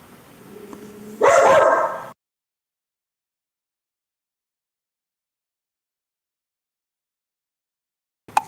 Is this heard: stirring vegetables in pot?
no